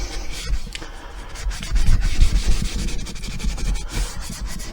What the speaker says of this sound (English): Keep rubbing this bit here where I had to force the wax in.